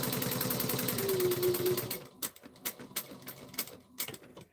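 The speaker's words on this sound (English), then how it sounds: "I'm just back stitching twice and then stitching forward." Sewing machine stitching a bag strap, running in a steady dense buzz for about two seconds, then short separated bursts as it back stitches twice and stitches forward.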